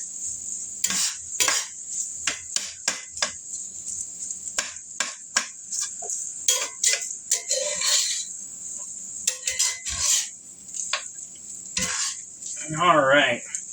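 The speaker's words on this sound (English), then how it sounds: "let's go ahead and stir that a bit. Get that butter integrated." Butter being stirred into fried rice in a pan, with a utensil scraping and clinking against the metal in repeated short strokes over a steady high sizzle and a low background hum.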